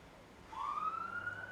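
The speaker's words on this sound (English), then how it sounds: "so it's just gone past with sirens on." An emergency vehicle siren sweeps up briefly as the vehicle passes by outside, a single faint rising wail heard at a distance over quiet background hum.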